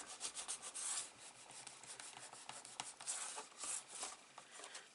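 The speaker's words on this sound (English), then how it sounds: "Just give it a good rub down." Folded paper crease is rubbed down firmly with short back-and-forth scraping strokes, quiet and close, with no talking.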